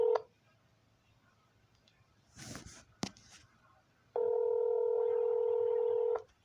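Phone keypad tones as a number is dialed to police headquarters: a short beep, some handling clicks and rustle, a sharp click, then one long steady tone lasting about two seconds, close and clean with no voices.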